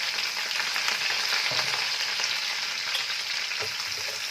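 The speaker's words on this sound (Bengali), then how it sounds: "এই তেলটার মধ্যে আমি এঁচোড়টা একটুখানি হালকা করে ভেজে নিচ্ছি।" Young jackfruit pieces frying in oil produce a loud, continuous, even sizzle close by, with faint stirring knocks now and then.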